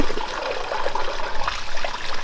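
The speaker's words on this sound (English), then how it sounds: "There's still quite a bit going down the drain" Water drained from a back tank pours steadily into a floor drain, a close, continuous trickling and gurgling rush with no other sounds.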